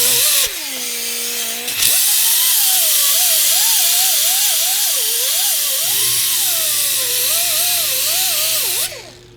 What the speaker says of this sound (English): we'll come back with the sanding wheel and we'll take off this little lip along the bottom